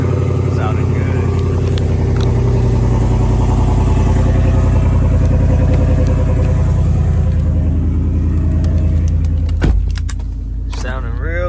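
Cut-exhaust 5.0 V8 of a 2016 Ford F-150 rumbling loudly at close range, a deep throbbing idle that holds steady before dropping off, with a voice speaking briefly over it.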